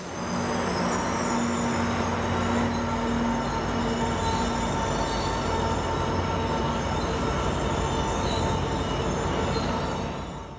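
Wheels of an Amtrak Surfliner passenger train squeal against the rails in long, high-pitched sustained tones over a heavy rolling rumble, loud and close for the whole stretch.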